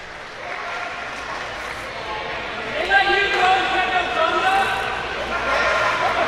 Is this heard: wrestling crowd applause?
yes